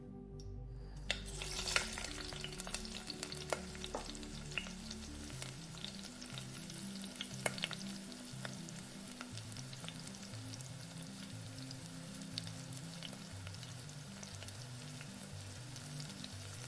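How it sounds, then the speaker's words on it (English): Minced garlic and onions frying in the same pan used to sear meat, a steady, close sizzle with occasional pops and utensil taps, mixed with soft background music. "I'll toss the minced garlic and onions into the same pan I seared the meat in"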